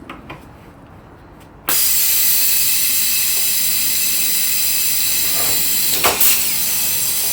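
A pneumatic rivet gun fed by an air compressor works on an aircraft horizontal stabilizer, starting with a sudden loud sustained hiss of air that holds steady, with a couple of short sharp bursts near the end.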